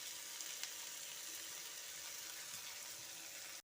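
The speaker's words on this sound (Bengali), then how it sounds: "সব দিয়ে আমি ভালো করে ভেজে নেব" Garlic, onion and spices frying in oil, a continuous close sizzle holding steady at an even level, with a few faint stirring clicks.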